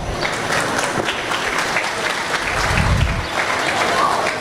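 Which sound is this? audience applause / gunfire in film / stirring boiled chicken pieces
audience applause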